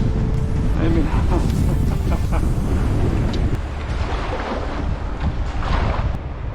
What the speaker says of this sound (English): Hopefully this island will give me a little bit of a respite from the wind.